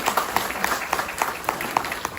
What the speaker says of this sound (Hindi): थोड़ी तालियां हो जाए माँ के लिए।